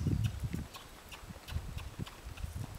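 A horse trotting during barrel riding practice, its hooves clip-clopping in a quick, fairly regular rhythm on soft ground, moderately close and otherwise uncovered by speech.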